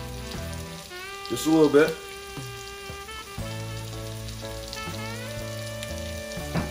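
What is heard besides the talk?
stirring salmon and pasta frying in olive oil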